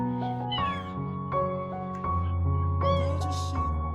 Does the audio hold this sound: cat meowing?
yes